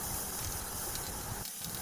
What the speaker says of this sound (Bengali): টমেটোগুলোও দিয়ে দিয়েছি, একটু সামান্য নুন হলুদ দিয়ে নেড়ে চেড়ে ভাজছি